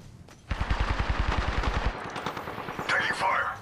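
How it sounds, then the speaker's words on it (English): Automatic gunfire in the video game Apex Legends, a rapid burst of about fifteen evenly spaced shots, loud and close, followed by fainter game sounds as a voice speaks. "I'm taking fire."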